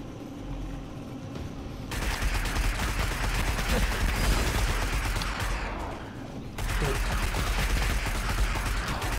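Sustained gunfire in the video game Destiny, dense rapid bursts and fusillade from several weapons at once, loud and close, briefly easing before resuming at full intensity.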